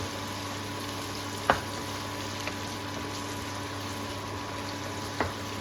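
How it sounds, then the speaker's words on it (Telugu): Finely chopped onion frying in a pan for capsicum (shimla mirchi) cutlets gives a steady, soft sizzling hiss with a low hum underneath and a few faint clicks. No one speaks. "ఇప్పుడు 1 ఫైన్లీ చాప్డ్ ఆనియన్ వేస్తున్నాను. చక్కగా వేయించుకోవాలి."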